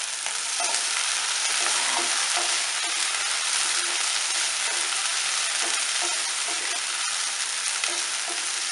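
Small shallots sauté in a pan with a loud, continuous hiss of frying oil and soft scraping from stirring, heard close with no voices.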